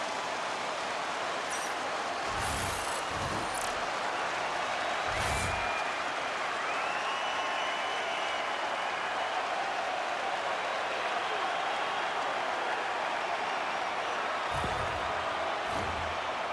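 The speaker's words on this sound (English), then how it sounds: "You can feel the energy in this crowd." Steady crowd roar fills a hockey arena in the NHL 26 video game, a continuous broadband wash with a few brief thumps and bursts, sounding full and ongoing without any clear voice.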